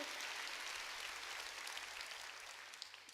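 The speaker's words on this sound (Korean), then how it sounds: "박수로 하나님께 영광을 돌려." A church congregation claps together in a steady wash of applause during a sermon, fairly distant and soft, gradually thinning out toward the end.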